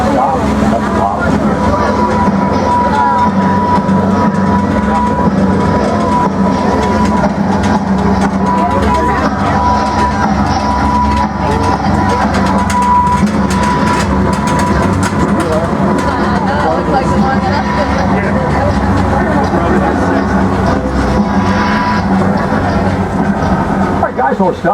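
Universal Studios Hollywood studio tour tram rumbling steadily as it moves through the backlot, a continuous loud drone with a humming tone, under a tour guide's amplified narration throughout.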